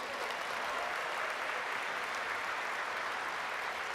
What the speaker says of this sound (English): Can we give a huge round of applause to ACN co-founders and ACN system?